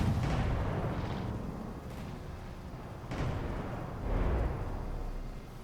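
Heavy battleship turrets firing in a naval combat video game, several deep booming blasts spaced a few seconds apart, each with a rolling low rumble and long decay, loud and close with no talking.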